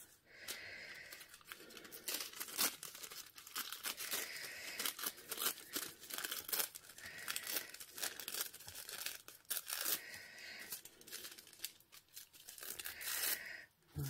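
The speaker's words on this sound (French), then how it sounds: "Ensuite, je vais venir déchirer ceci et le coller dessus." Paper is torn by hand in a long run of repeated close rips, with crinkling and crumpling between the tears and quiet speech now and then.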